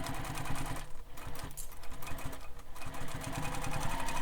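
A sewing machine runs basting stitches through foam and fabric for a Jack Sling Pack, a close, quick mechanical whirring that stops briefly twice and then resumes steadily.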